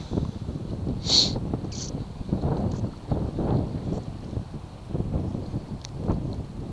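Gusty wind buffets the microphone in uneven bursts, with rumbling low noise and a few faint higher clicks scattered through.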